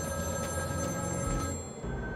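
In the video game Batman: Arkham City, a telephone rings with a steady electronic bell tone, its bursts repeating at an even rhythm over a low background hum.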